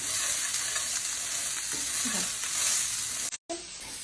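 Vegetables sauté in a hot pan for a crispy rice bowl, giving a steady close sizzle with light stirring scrapes, followed by a brief dropout near the end.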